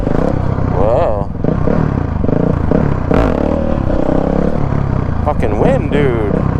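A Honda CRF450X dirt bike engine revs and roars up and down during outdoor wheelie practice, mixed with heavy wind buffeting, while a voice is heard over it.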